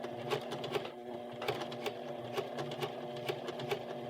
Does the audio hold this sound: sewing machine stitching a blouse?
yes